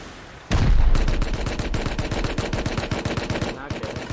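Automatic gunfire from the survival game Rust bursts in suddenly and loud, then runs as a rapid, even string of shots for about three seconds before it cuts off.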